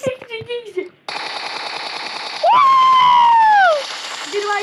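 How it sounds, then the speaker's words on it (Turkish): Rapid automatic gunfire from the PUBG Mobile video game rattles loudly and continuously after a brief voice at the start, with a rising and falling whistling tone over the shots in the middle. "Benim niye sıktığım mermiler değmiyor?"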